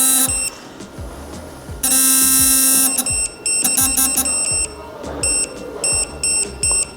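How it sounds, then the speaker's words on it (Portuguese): Rapid electronic beeps from an electronic torque wrench warning as it nears set torque sound in quick bursts, some short and some longer, repeating in an irregular pattern over a mechanical clicking background. "Então eu tenho o aviso dos bips"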